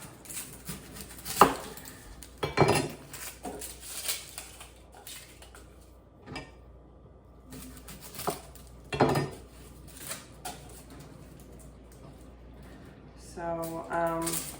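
Onions being chopped on a cutting board for a gluten-free dinner, giving scattered knife knocks and clatter in short bursts with quiet gaps between them, close by, with a few faint kitchen sounds and no talk.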